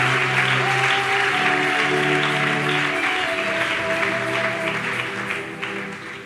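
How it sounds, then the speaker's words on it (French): A church congregation applauding loudly, dense continuous clapping under a sustained musical tone, tapering slightly toward the end. "Déposez les Bibles et acclamez très fort."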